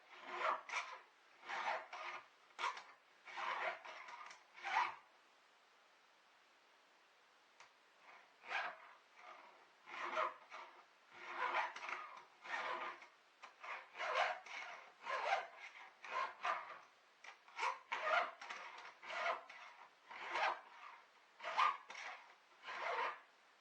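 A hand file works the rakers of a chainsaw chain in quick rhythmic strokes, close and fairly quiet, pausing briefly before the steady rasping resumes, with no talking.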